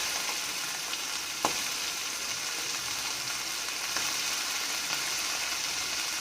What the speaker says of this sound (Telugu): వేసి బాగా ఫ్రై చేస్తాం.